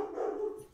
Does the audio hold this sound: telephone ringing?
no